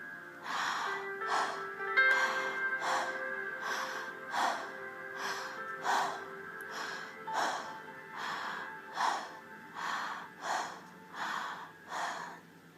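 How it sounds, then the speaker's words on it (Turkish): Slow, rhythmic breaths rise and fall about once a second, close and soft, with a faint steady tone in the background. "Sadece izin verin ve nefes almaya devam edin."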